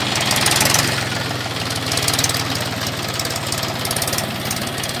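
A Mahindra 265 DI tractor engine labours under heavy load while pulling two harrows, a steady close-up diesel drone with rapid, even firing pulses throughout.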